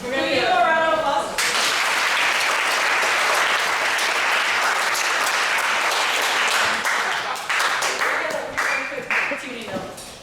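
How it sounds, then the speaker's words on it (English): Audience applause for a saxophone quartet at a camp, a sustained burst of clapping from a crowd that tapers slightly near the end, with a brief voice at the start. "We're going to give a round of applause."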